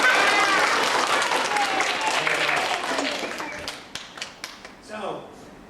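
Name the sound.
children clapping to show they are having fun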